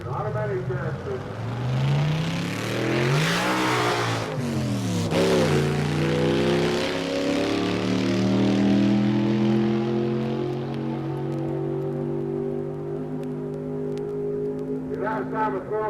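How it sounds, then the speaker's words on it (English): Ken Johnson's Chevrolet-powered sidewinder drag racer with automatic transmission revs and accelerates loudly at a 1963 drag strip, its engine note climbing through gear shifts before holding a steady roar as it pulls away, with an announcer talking over it. "Here once again we have Ken Johnson. Chevrolet power, sidewinder, and automatic transmission."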